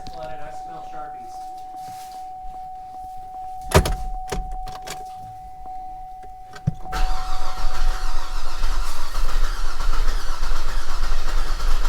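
A flood-damaged Cadillac SRX is cranked over several times with sharp starter bursts before the engine catches and settles into a loud, steady running rumble. Voices are heard during the cranking.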